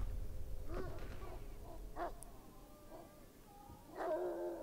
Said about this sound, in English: I can hear a dog and I do not like that at all.